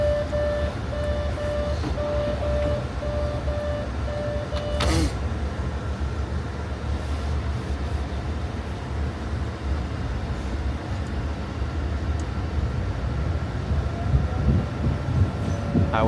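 A Boston T subway train rides along, its loud steady rumble and rattle filling the car for the whole stretch. Electronic chime-like tones sound early, a sharp clunk comes midway, and the noise swells near the end, with no talk.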